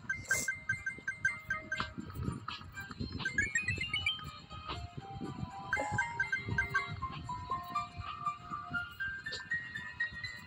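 Sheep bleats from a video game ring out repeatedly over a busy mix of game music and chimes, several short wavering calls spread across the clip, moderately loud and close.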